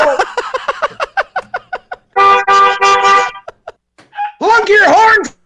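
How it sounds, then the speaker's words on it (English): A car horn honks from the street for a Nebraska Huskers radio stunt. A sustained blast is surrounded by choppy bursts of voices and squawk-like sounds, and people talk nearby. "Is that a horn? Did somebody honk?"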